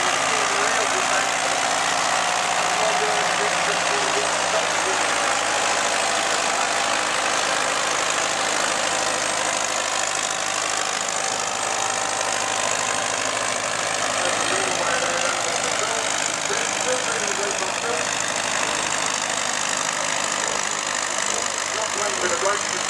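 A Fordson tractor engine runs hard during a double-header tractor pull, giving a steady loud roar with a rough, knocking edge throughout.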